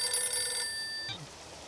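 A telephone bell rings with a bright, trilling electronic tone, close and clear, then stops abruptly partway through, followed by a faint handling sound.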